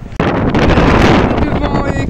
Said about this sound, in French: je sais même pas si vous m'entendez tellement il y a du vent. Le vent est super fort